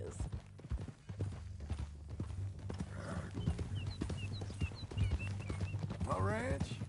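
Horse hooves clip-clop steadily through a Red Dead Redemption 2 ranch scene, a close, even rhythm running beneath men's conversation, with a brief whinny near the end.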